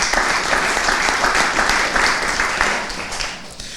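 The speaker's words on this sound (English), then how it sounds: "Let's have a round of applause for Archie Johnson" Sustained applause from an audience welcoming a candidate at a Hamilton election forum, broad and steady throughout and fading slightly toward the end.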